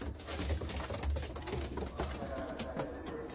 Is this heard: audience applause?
no